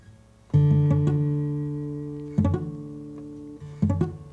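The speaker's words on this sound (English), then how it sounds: "if you're getting that sound, it just means that you're not quite pushing hard enough" Acoustic guitar chord strummed with fingers not pressed down hard enough, three strums at uneven intervals, each ringing out with a dull, buzzy tone, close and alone.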